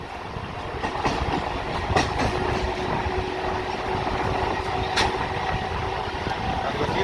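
A Guntur–Vijayawada MEMU train rolls onto the Krishna river bridge, a steady loud rumble of wheels and carriage noise with faint rhythmic clatter running throughout, no voices.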